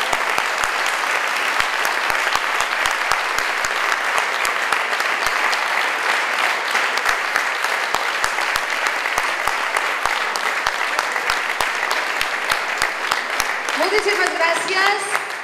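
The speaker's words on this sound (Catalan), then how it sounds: "jo li demano un fort aplaudiment per la paciència." A crowd gives a loud, sustained round of applause at a public gathering, dense clapping continuing evenly throughout before a voice begins speaking over it at the very end.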